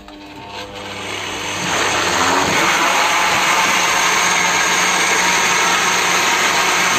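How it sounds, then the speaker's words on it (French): A blender mixes basbousa batter made with sugar, rising quickly to a loud, steady whirring roar that holds for several seconds, close up and with no voices. "Donc là, on va mixer."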